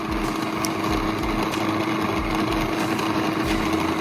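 A stand mixer kneads organic dinner roll dough made with home-milled flour, a steady droning motor hum with a faint periodic thump as it turns, close and continuous with no talking.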